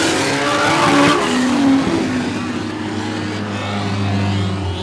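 Sprint race cars on the final lap howl past with loud engine drone and tire squeal, one machine swelling then fading as a steady engine tone holds into the distance.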